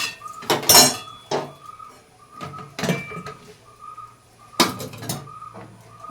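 Dishes and pots clatter and clank in bursts, with metal scrapes and splashes between louder knocks, close by and without talk.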